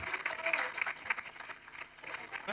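Applause for winners at a student awards ceremony, brief patchy clapping from a crowd that rises and dips in uneven bursts, short and moderately loud.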